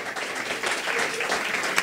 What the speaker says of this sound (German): Applaus für dich